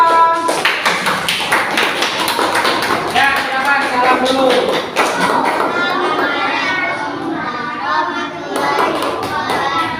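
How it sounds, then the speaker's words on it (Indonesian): A classroom of students claps in a burst for a student group, dense and close at first and then thinning out, while a teacher and children talk over it. "beri tepuk tangan dulu untuk kelompok 2"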